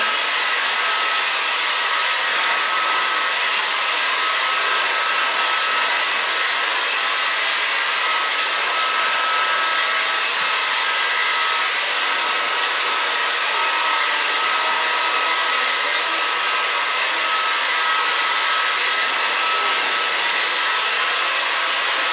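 A hair dryer blows with a steady, loud, continuous whoosh, unbroken from start to finish with no voices.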